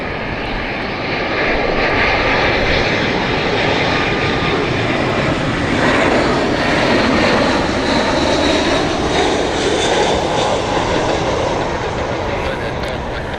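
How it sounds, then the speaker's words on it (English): A short-haul passenger jet lands at Heathrow Airport, its engines making a loud, broad, sustained roar that swells and holds for over ten seconds. "short haul aircraft are coming in, and they come in quick and fast as well"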